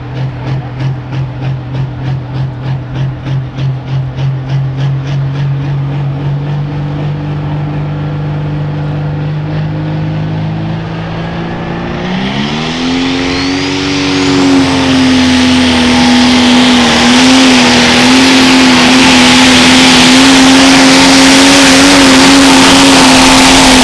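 A pro stock pulling tractor's engine roars loud and steady at a tractor pull in Monroe, Wisconsin, rising sharply in pitch and intensity midway as it powers up into a sustained, high-revving howl.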